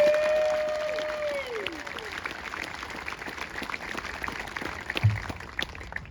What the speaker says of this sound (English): please give all of them a well-deserved round of applause